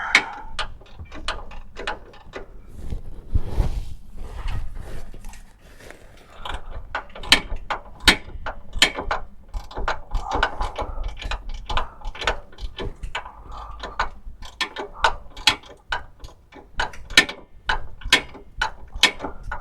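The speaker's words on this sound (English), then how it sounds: "Can I get the bigger torque wrench in there?" Ratchet torque wrench clicking steadily on a bolt for a Jeep Grand Cherokee 3.7L motor mount, a long close run of sharp ratcheting clicks with brief pauses between strokes.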